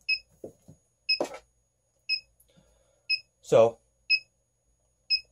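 Short electronic beeps from a battery charger sound at a steady pace, roughly once a second, close and clear, while a person speaks briefly between them.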